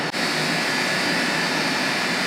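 Inside a ship's engine room, the main engine runs with a loud, unbroken broadband roar and hum. It is close and constant, with no voices.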